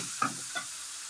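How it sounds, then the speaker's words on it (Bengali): A mustard spice paste fries in a pan while being stirred, with a soft sizzling hiss and two quick scraping strokes of the spoon, faint and close. "দেখো আমার মশলাটা ভাজা হয়ে গেছে।"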